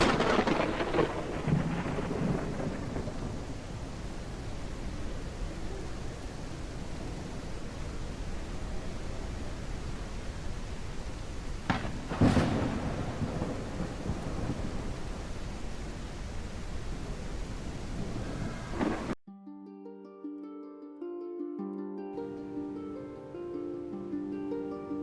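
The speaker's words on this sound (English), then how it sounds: "Not only was it dark, but a violent storm rolled in." A violent thunderstorm at night in the dinosaur video game The Isle: heavy, steady rain hiss with rolling thunder and one sharp crack midway, then the storm cuts off and soft ambient music follows.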